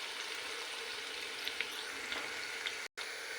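Onions frying in a pan until they turn red give a quiet, steady hiss of sizzling oil with a few faint pops, broken by a brief dropout near the end.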